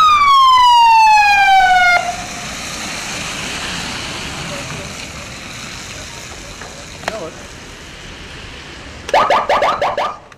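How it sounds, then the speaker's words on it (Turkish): An emergency vehicle siren sweeps loudly at the start, then cuts off, leaving traffic and street noise, with a sharp burst of clattering sounds near the end. "Destici ve araçta bulunan diğer 3 kişi ambulanslarla Reşadiye Devlet Hastanesi'ne kaldırıldı"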